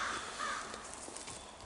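Crows caw outdoors in a forest near a river, a few harsh calls against steady rushing background noise, moderately distant and without speech.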